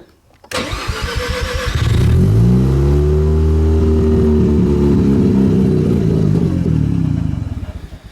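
A Mazda RX-7 FC3S Turbo II rotary engine with a missing idle air control valve cranks briefly, then catches and roars to a loud, sustained rev, holding high before easing back near the end.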